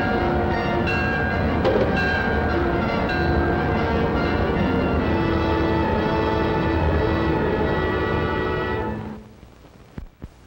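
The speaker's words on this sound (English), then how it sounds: "Now the Clipper goes speeding under electrical power." Electric passenger train, the Clipper, running at speed under electrical power: a loud, steady rushing roar with ringing tones that carries for about nine seconds, then cuts off abruptly, leaving quiet and a few faint knocks.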